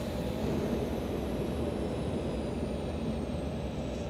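Airplane engines in a thriller film throttled back to about 70 percent to conserve fuel, a steady loud broadband roar and rumble that holds evenly throughout with no voices.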